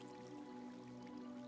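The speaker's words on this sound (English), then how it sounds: "Go up a water elevator and then dive down into your bed" Minecraft water elevator bubbling and dripping in a brief quiet stretch, a soft steady liquid trickle with a faint tonal hum beneath, no talk.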